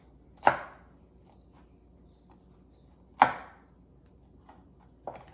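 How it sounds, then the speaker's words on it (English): A knife chopping a pepper for vegan seafood gumbo: two sharp, isolated cuts against a board about three seconds apart, then a fainter tap at the end, in an otherwise quiet room. "So the next thing is I'm going to chop the pepper."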